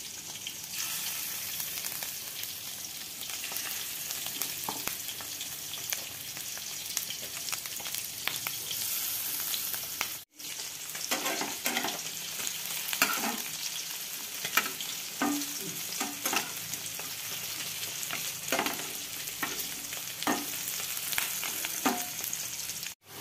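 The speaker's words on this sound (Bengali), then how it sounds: "এখন হচ্ছে ডিমের বড়া ভাজা" Egg fritters, made with a little rice flour, sizzle and crackle steadily in hot oil in a village kitchen, with scattered pops and stirring sounds and one brief cut partway through; no talking.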